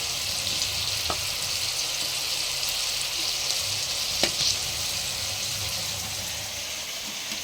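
Drumsticks and chicken frying in hot oil in a pan, a steady broadband sizzle throughout with two brief sharper crackles or pops, close and fairly loud, no voices.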